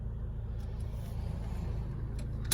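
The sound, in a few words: cars approaching on the road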